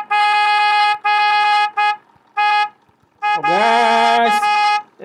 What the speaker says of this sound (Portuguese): Vamos apertar a buzina no bagulho